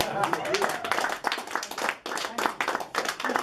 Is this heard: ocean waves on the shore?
no